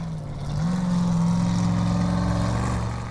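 A Formula Offroad car's engine drones steadily on a hill track in Akureyri, Iceland, rising in pitch and holding a sustained mid-range roar for about three seconds with no talk over it.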